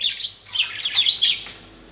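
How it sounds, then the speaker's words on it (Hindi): Pet parrots squawk and chirp in a string of shrill, harsh calls, moderately loud and close, rising in brief bursts over about two seconds. "ये है जी मेरे प्यारे प्यारे तोते"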